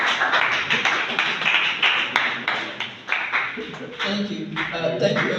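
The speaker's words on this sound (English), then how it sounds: "Please give her a round of applause." Audience applause for a speaker at a school event commemorating Wole Soyinka's birthday, close, uneven clapping with some louder individual claps, mixed with crowd voices and talk.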